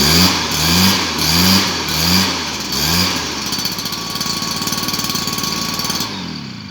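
A small motorized sprayer's engine sputters through a few rhythmic pulling surges, then settles into a loud, steady, rapid idle running close by, with no talk over it before it cuts off.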